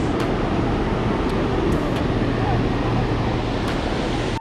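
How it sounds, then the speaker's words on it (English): The Pliva waterfall in the centre of Jajce, Bosnia, gives a loud, steady, dense roar of rushing water that fills the whole scene and then stops abruptly. "The Pliva Waterfall, or the Jajce Waterfall, located in the center of Jajce in central Bosnia"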